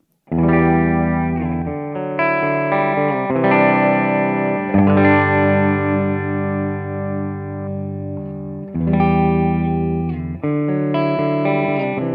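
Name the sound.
electric guitar humbucker pickups, clean with reverb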